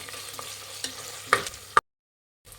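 Ginger garlic paste and chopped green chillies fry in a pan with a soft sizzle and a few stirring scrapes and knocks, close by, before cutting off into silence and a faint return.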